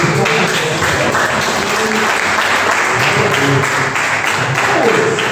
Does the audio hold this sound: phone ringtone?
no